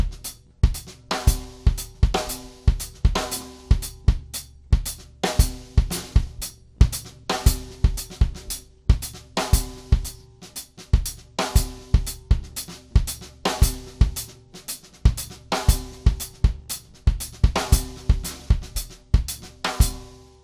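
Drum kit groove with soft ghosted notes from the left hand filling around a steady main pattern, dense and continuous with dynamic accented hits, played close and alone for about twenty seconds.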